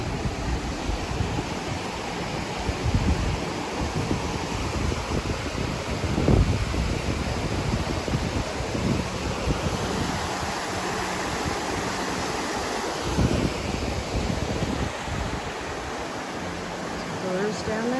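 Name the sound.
Toxaway Creek water flowing under suspension bridge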